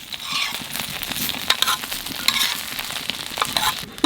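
Hilsa fish frying in a pan, a close, lively sizzle and crackle with scraping stirs and small clicks from the utensil, steady throughout with no voices.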